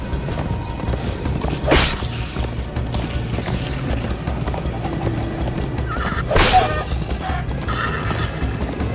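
Galloping hooves clip-clop steadily while a horse neighs loudly twice, over a busy soundtrack in Minecraft: Story Mode Episode 4.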